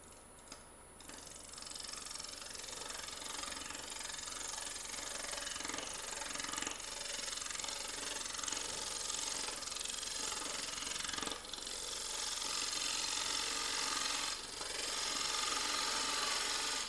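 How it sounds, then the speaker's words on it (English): Gouge or carving tool cutting steadily into solid wood while carving a snowman figure, a continuous close, rough scraping and chattering grind that runs without pause and without talk. "So now I'm going to cut in there to solid wood again."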